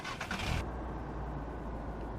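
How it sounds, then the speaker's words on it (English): A truck engine in the Truck and Logistic Simulator video game cranks briefly at the start, then settles into a low, steady idle rumble that holds for the rest of the clip. "Obviously the engine started."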